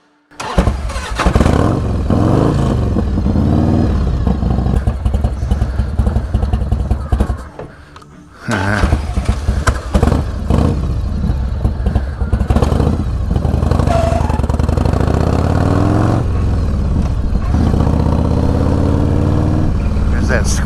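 An old Harley-Davidson motorcycle engine cranks and fires, then revs loudly and idles roughly up close, with a brief dip near the middle before it catches again; a faint squeal and a voice talking are mixed in.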